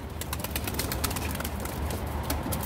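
Tumbler pigeons in a coop at Dil pier in Kocaeli give soft cooing calls over a busy, noisy background with rustling and flapping, close and continuous.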